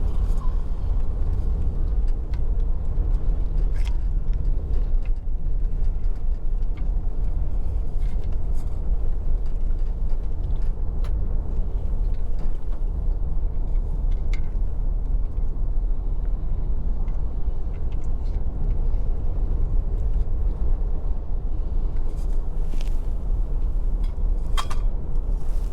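A car drives a main road at night in Jamaica, between Santa Cruz, St. Elizabeth and Mandeville, Manchester. The engine and tyre rumble holds steady and close throughout, with faint clicks and no talking.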